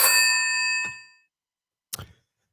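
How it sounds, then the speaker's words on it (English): A telephone rings once, a bright bell-like chime that decays over about a second, followed by a short clunk as it is answered, with silence in between. "Oh, the phone's ringing."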